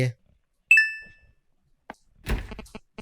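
A single bright phone message notification ding, short and clear with a ringing tail, followed by quiet and some brief knocks and muffled voice sounds.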